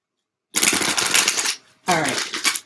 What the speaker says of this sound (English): Let me go ahead and shuffle one more time.